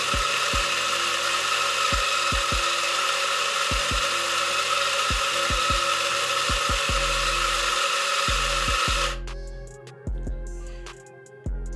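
DF64 coffee grinder grinding coffee beans, a loud steady motor whine with rhythmic knocks underneath that cuts off abruptly, leaving quieter clicks and rattles.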